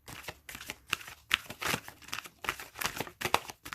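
Tarot cards are being shuffled close by in a steady series of soft riffling, slapping bursts, quiet and without talking.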